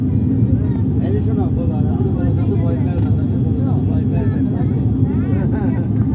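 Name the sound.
airplane cabin noise during descent toward Cox's Bazar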